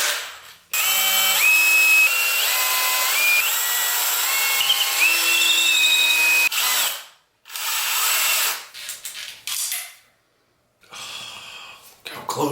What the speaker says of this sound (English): I'm gonna start with a smaller drill bit, and I'll slowly work up.